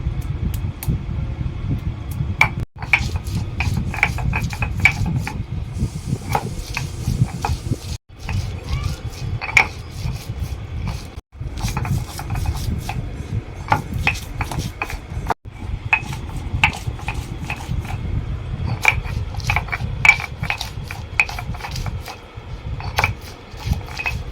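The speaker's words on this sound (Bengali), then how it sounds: "আমি এখন মশলাগুলো বেটে নেবো এখানে আছে আদা আর এই বাটিতে আছে রসুন লঙ্কা এখানে আছে জিরে গোটা গরম মশলা" Ginger, garlic, chilli, cumin and whole garam masala are ground by hand for a potol chicken curry, giving a close, continuous rhythmic scraping and rubbing with a few brief pauses.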